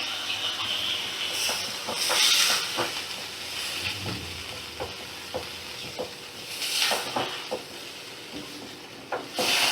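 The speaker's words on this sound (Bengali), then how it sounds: "এবার আমি ঝোলের জন্য পরিমাণ মতো জল দিয়ে দিলাম" Water poured into a hot pan for a bata fish and bottle gourd curry sets off a loud, broad hiss and sizzle. Stirring clatter and sputtering bursts rise and fall close by.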